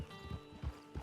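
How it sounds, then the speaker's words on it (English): Horse hooves clip-clopping in a video game, three evenly spaced thuds close by over a steady game soundscape with a faint tonal hum. "Get your horse."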